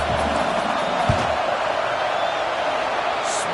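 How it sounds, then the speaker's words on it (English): A college football video game stadium crowd roars as the field goal team lines up, a dense, steady wash of distant cheering with one brief thump, and no voices standing out. "This crowd trying to do its part to get inside the kicker's head."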